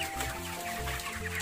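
Broiler chickens around 30 days old cluck continuously inside a coop housing some 2,500 birds, a dense, steady chorus of overlapping calls close by.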